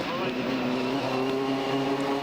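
TVR Tuscan race cars from the 1999 Tuscan Challenge at Knockhill circuit roar steadily at high revs, a continuous loud engine drone with layered harmonics and no breaks.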